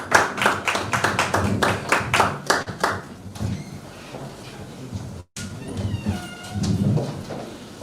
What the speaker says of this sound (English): Please, a round of applause for them as we go back to the stage.